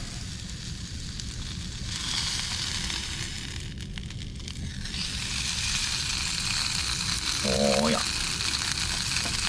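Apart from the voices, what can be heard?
food sizzling in a pan in a truck camper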